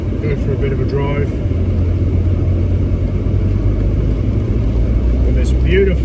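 A Volkswagen Golf Mk4 V5 is driven on a wet British road, heard from inside as a loud, constant low engine and road rumble with a steady drone and faint voice-like tones over it.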